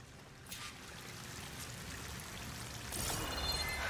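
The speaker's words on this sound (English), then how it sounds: "The waterfall must be coming from somewhere." Waterfall in the video game Horizon Forbidden West, a faint, steady rushing pour that swells louder near the end, alone without speech.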